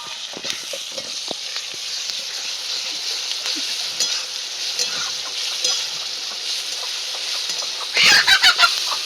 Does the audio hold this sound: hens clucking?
yes